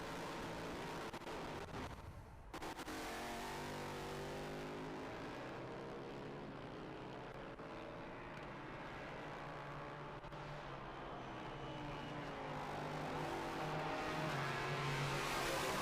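Race cars at the Road America SpeedTour roar past in a continuous engine drone, their pitch sweeping and shifting as they accelerate and brake, with no talk in between.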